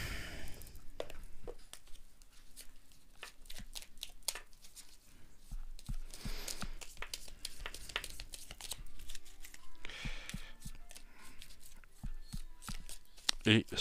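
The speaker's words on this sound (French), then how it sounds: "On va déjà prendre une première carte ici" Oracle cards shuffled and drawn by hand, a long run of soft flicking, riffling and papery snaps close by, with a quiet voice talking at times.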